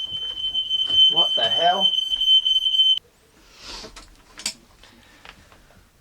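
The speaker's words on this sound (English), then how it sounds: "Smoke alarm" Indoor smoke alarm shrieking with a steady, loud high-pitched tone for about three seconds, then cutting out, followed by a startled voice and quiet movement.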